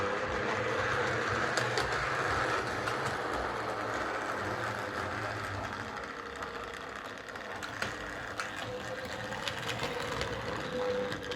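Model train locomotive Cardiff Castle running on the curves of a layout extension, giving a steady whirring motor hum with light rhythmic clicking of wheels over track joints, fairly quiet and continuous throughout.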